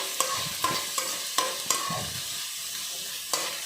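Three sliced onions frying in a pan for wheat dosa, a gentle sizzle punctuated by regular scraping clicks of a spoon stirring, close and quiet.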